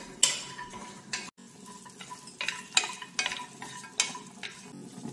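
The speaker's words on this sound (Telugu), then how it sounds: "ఇప్పుడు మనం కొంచెం ఆయిల్ తీసుకొని వీటిని కొంచెం ఫ్రై అవ్వాలి." Cashews, fresh coconut, coriander and cumin seeds frying in a little oil for a mushroom curry, with a soft sizzle broken by intermittent spoon scrapes and clinks against the pan, close by and without talk.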